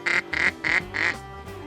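Ducks quacking in a flock out on the Great Salt Lake, four loud nasal calls in a steady rhythm followed by a couple of fainter ones, close and clear with no talking over them.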